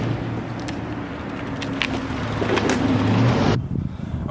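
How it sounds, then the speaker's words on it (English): A mail truck drives past close by on a street during a BMX ride, a steady low engine rumble building as it nears and then cutting off abruptly, with wind noise over the microphone. "Oh, mail truck. Get out of the way before they run me over."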